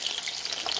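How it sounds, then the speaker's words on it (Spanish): Sausages frying and browning in a pan give a steady, close crackling sizzle with a dense, even texture and no talk. "después de que termino de dorar las salchichas"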